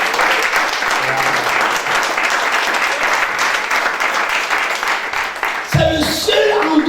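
A church congregation breaks into sustained applause and cheering for the Lord, a dense wash of many hands that runs for several seconds before a voice cuts in at the end.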